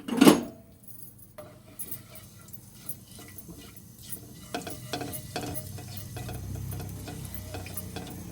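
Cumin seeds fry in oil for an egg tikka masala, starting with a loud clatter as they drop in, then a soft crackling sizzle with light ticks of stirring that builds gradually.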